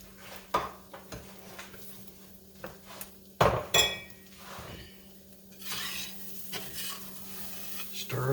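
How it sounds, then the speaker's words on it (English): Flour being stirred into beef round steak gravy in a pan, a spoon scraping and clinking against the bottom in uneven strokes with a faint sizzle, close and fairly quiet. "Stir this around."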